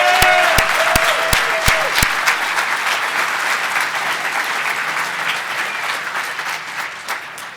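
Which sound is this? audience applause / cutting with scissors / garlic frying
audience applause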